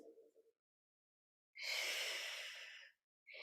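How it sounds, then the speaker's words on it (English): Deep breaths through the nose during a gentle yoga flow: a short faint exhale, a pause, then one long steady airy breath, and the start of another, quiet and close. "Breathing deeply in and out through the nose."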